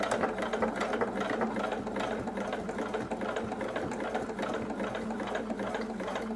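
A sewing machine runs steadily while stitching a Japanese patchwork pouch, giving a continuous close mechanical whir and rapid needle clatter with no pauses and no talking.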